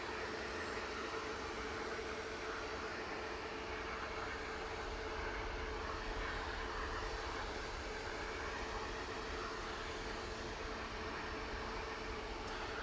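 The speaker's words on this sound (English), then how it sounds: "EasyJet scuttling out from Victor Charlie off to Amsterdam in the background." An EasyJet airliner taxiing out at Manchester Airport, bound for Amsterdam, heard as a faint, steady engine whine and broad rumble in the distance, continuous with no voices.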